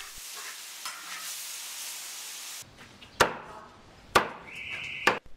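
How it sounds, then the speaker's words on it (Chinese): In a traditional Hakka farmhouse kitchen, food stir-fries in a large wok over a fierce wood fire: a steady close sizzle gives way to three sharp, separate scraping clanks of the spatula against the wok. "炒菜用猛火，这也是农家菜的本色"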